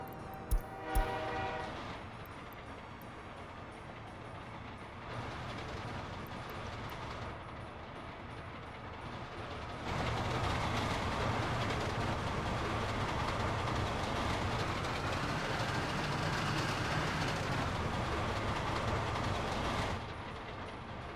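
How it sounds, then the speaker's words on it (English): A train departing in the city-building game Workers and Resources, a horn blast at the start followed by a steady rolling rumble with clickety-clack that swells louder midway, with no talk. "now we send out the train and see if it can load all 4 of them"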